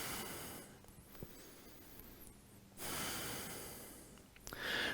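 Slow, deep yoga breaths on all fours in a vinyasa flow, two long, close, quiet rushing exhales with soft nasal snorts.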